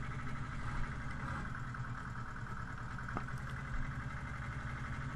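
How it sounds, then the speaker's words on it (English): Old tractor engine idling and running in a farming video game, a steady mid-low mechanical drone with even, continuous harmonics, alone without talk. "That's such a funky old tractor"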